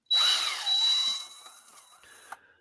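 Power drill runs at close range in a short, loud burst with a high whining motor tone, dips briefly, spins up again, then winds down into a fading whir ending in a small click.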